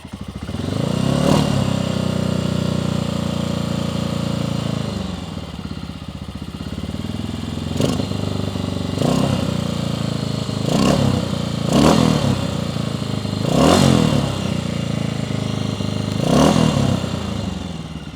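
A 1994 Honda XR650L motorcycle, started after sitting unused for fourteen years, revs loudly with its choke partly on. It settles into a steady idle and rises in repeated sharp throttle blips, with no talking.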